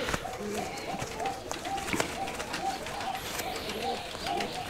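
A pair of green Rajshahi Giribaj pigeons coo in soft, repeated rolling phrases, fairly faint and close, with light shuffling and fluttering movement mixed in.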